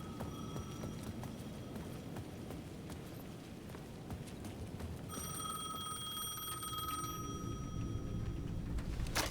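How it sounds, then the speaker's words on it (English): A payphone rings in Alan Wake II, a shrill electronic bell that comes in partway through over a dark, rumbling ambient bed, lasting a couple of seconds and fading while the low murky background carries on. "The payphone at the edge of the plaza was ringing again."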